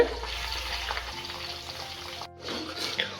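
Fenugreek and hibiscus fry in oil over a low flame for homemade hair oil, a steady moderate sizzle with scattered crackles and stirring scrapes, briefly dipping before resuming.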